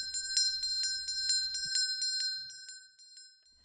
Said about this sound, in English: a bell high above the fireplace began to swing to and fro